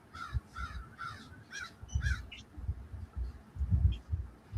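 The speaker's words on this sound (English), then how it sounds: "I heard crows and crickets." Several crows caw in a run of harsh calls at a middle distance, over a low rumbling background.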